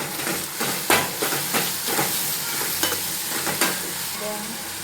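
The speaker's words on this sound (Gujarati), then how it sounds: "આ રીંગણાનું બધું તૈયાર થઈ ગયું અને મસાલાનો મેં વઘાર કરી નાખ્યો છે." Spices temper in hot oil with green onion, chillies and tomato for a Gujarati aubergine dish, a continuous close sizzle and hiss broken by repeated scraping stirs of a spoon in the pan.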